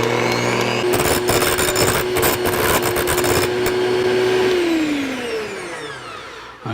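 An electric hand mixer whipping cream to stiff peaks for a chocolate mousse gives a steady, loud motor whine for several seconds, then slows and winds down near the end, with no talking over it.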